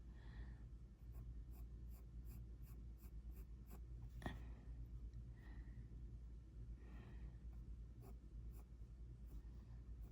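A coloured pencil scratches lines onto paper in short repeated strokes, faint and close, with soft breathing and no talking.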